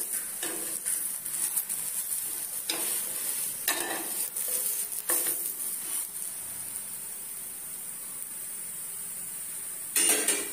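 Jowar thalipeeth sizzling on a hot tava, a steady close hiss of frying with brief scraping and stirring bursts spread through, and no talk.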